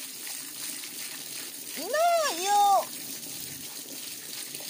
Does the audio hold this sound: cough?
no